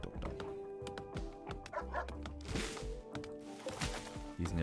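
A dog in a survival video game barks in a quick series of sharp yips and woofs, close and fairly loud, with game clatter and thuds around it.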